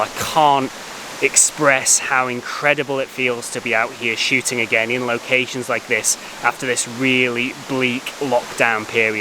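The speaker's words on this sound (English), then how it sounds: "This is called Renasce Falls" Renasce Falls waterfall in a forest, a constant soft rushing wash of water beneath someone talking close up.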